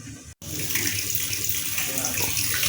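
Tap water runs steadily into a sink as raw chicken is washed for a white karahi, a continuous close rush broken by one brief cut near the start.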